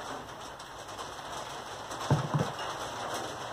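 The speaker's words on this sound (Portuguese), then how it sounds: "Agora vocês vão escutar a chuva." Rain falls steadily outdoors as a soft, continuous wash of hiss throughout, with a couple of brief louder taps or drips near the middle; no one speaks.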